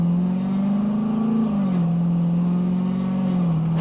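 A HEMI V8 swapped into a Jeep Renegade holds a loud, steady high rev close by, the pitch dipping slightly twice, with a rough edge from the tires scrubbing on the road.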